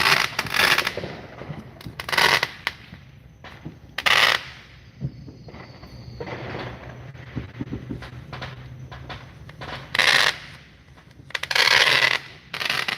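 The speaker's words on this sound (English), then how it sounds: "That's some neighbors shooting off fireworks." Bursts of distant Fourth of July fireworks set off by neighbors, popping and crackling in irregular clusters, separated by quieter pauses with faint background noise.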